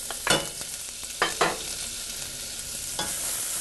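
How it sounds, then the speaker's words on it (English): Diced onions frying in clarified butter in a hot pan, a steady sizzle broken by several sharp scraping stir strokes near the start and again later, close and moderately loud with no talking. "And now I'm going to put in my onions."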